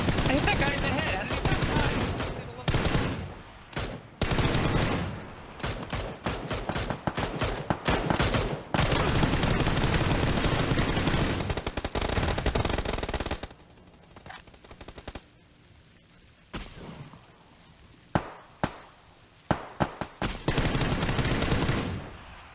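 Rapid automatic gunfire and single shots crack through a first-person video game shooter, dense sustained bursts for the first half, then sparser isolated shots with quieter gaps.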